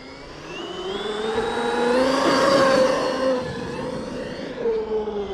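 X-BUG buggy on its stock motor with a 2.55 primary ratio accelerating on a cold battery, a whining engine rising in pitch and loudness, peaking, then easing off and holding a steady hum.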